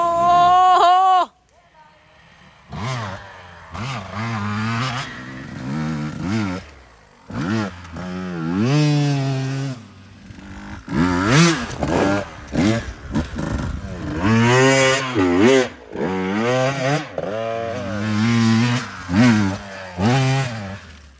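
A 2022 Husqvarna TE150i TPI two-stroke dirt bike engine revs up and down repeatedly, with loud rising and falling blips and brief pauses between them.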